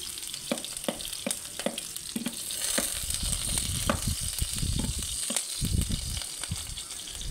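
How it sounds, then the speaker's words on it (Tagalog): Steady sizzling and crackling from wet onions frying in a pan for chicken tinola, with occasional sharp pops and stirring scrapes throughout. "Nananalsik man guys ang sibuyas guys."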